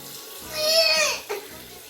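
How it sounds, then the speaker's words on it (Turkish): Running tap water splashes steadily over a child's hands at a sink, rising into a louder gush for about a second before easing back, with no talk over it. "ellerini yıka"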